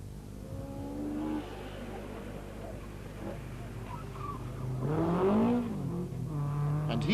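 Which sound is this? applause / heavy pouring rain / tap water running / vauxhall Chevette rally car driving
vauxhall Chevette rally car driving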